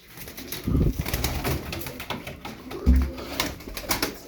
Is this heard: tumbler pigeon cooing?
yes